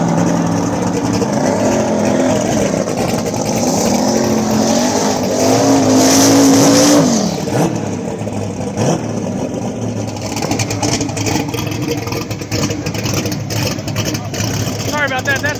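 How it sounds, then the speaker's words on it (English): Small tire drag race car doing a burnout at an outlaw shootout, a loud continuous engine roar with rising revs and tire noise, while a commentator talks over it. "Green having a hard time getting a burnout on the first try."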